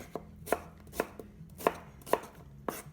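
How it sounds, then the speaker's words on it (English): Knife chops broccoli into chunks on a cutting board, six sharp, close thunks at an uneven steady pace with quiet pauses between, no talking. "So we're just going to chunk this up."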